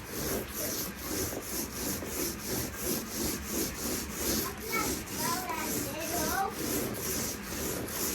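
Steady back-and-forth rasping of a saw cutting wood, repeating in an even rhythm close by, with a faint squeaky chirp partway through.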